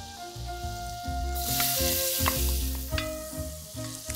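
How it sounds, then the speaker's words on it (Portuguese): Minced garlic and onion sautéing in butter and olive oil in a pan, a steady loud sizzle with occasional stirring scrapes and clinks, close up. "Nessa manteiga com azeite, eu vou refogar o alho picadinho, picado ou ralado, como você quiser."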